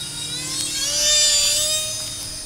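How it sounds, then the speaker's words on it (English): An E-Flite Citation Longitude RC jet plane flies slowly in a tight area, its high-pitched electric whine swelling as it nears and then easing off, alone without talking. "you can fly this plane slow, which is really nice right now with as tight of areas we're flying it in"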